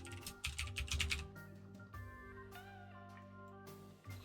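A name being typed on a computer keyboard: a quick burst of light key clicks near the start, then fading, over steady background music.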